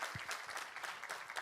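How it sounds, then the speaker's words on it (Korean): A church congregation gives a brief burst of dense, continuous applause during a Korean worship service, heard softly and at a distance. "우리 하나님께 감사와 영광의 박수 올려드리겠습니다."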